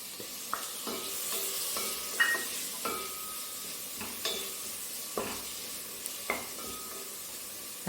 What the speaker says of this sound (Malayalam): തക്കാളി നല്ലപോലെ ഒന്ന് വഴലട്ടെ.